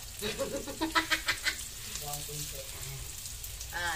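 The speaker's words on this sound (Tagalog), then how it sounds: "Haluin mo maigi na. Hawakan mo yung tangkay na para mahalo mo, anak." Vegetables sizzle in a pan while being stirred with a ladle, a series of close scraping strokes over a steady frying hiss, with a voice speaking nearby.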